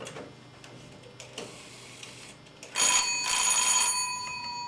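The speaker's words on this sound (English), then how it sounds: "So, Alexander Graham Bell invented the phone." An electric telephone bell rings loudly in a couple of long, rattling bursts after a quieter stretch of faint background clicks.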